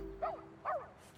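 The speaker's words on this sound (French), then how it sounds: "vous avez entendu ça? On dirait bien que c'est l'aboiement de" A dog barks twice in quick succession, short high yipping barks heard close and fairly clear over a low steady background hum.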